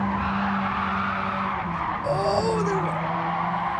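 Car tyres squealing and sliding during an online race in Gran Turismo 7, a sustained skid with pitch-bending squeals over steady engine roar, loud and close.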